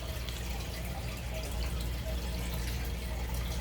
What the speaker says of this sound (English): And now I'm just going to leave it to suck out some more of the water.